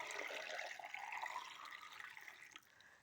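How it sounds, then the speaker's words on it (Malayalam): Hot salted water is poured over gooseberries and kanthari chilies, a faint, continuous trickle that tapers off just before the end. "കാന്താരി മുളക് ഇട്ടതിന് ശേഷം നമുക്ക് ഈ ഉപ്പിട്ട വെള്ളം നിറച്ചൊഴിക്കാം"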